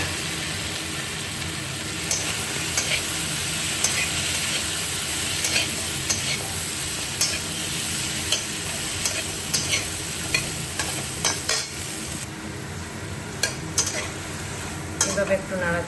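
Sliced drumsticks fry and get stirred in a pan, with a steady sizzle broken by repeated scraping and clinking of a utensil against the pan, up close and continuous.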